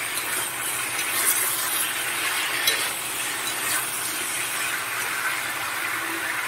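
A fish head fries with spices in a pan, giving a steady soft sizzle and hiss that continues evenly, with faint stirring scrapes now and then.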